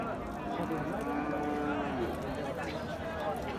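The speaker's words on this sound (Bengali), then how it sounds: "দেখার মতো গরু" Nepali Gir breed bulls at a cattle market give low, drawn-out moos amid a constant crowd din and nearby talk.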